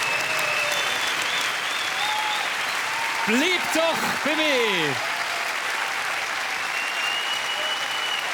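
Studio audience applauds steadily after a Swiss pop song performance on a television show, the clapping continuous throughout with a host's voice speaking over it midway.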